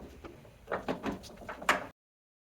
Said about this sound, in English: Door lock cylinder back in.